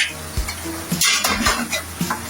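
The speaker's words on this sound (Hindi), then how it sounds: "अभी मैं इसको थोड़ा सा भून रही हूँ" Nihari masala fries in a pan with a close sizzle while a metal spoon clanks and scrapes against the pan in several quick stirring strokes.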